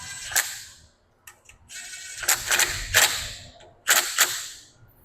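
Small spinner wrench ratcheting on valve body bolts of a 4L60 automatic transmission, sharp clicking bursts in short clusters separated by pauses, close and fairly loud with no talking.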